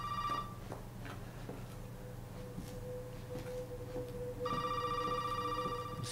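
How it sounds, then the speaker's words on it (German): Telephone ringing inside the Resident Evil 7 horror video game, a repeated electronic ring in two bursts at the start and end, heard alone over a low steady game ambience hum. "Dann würde ich sagen, nein, wir gehen nicht ans Telefon."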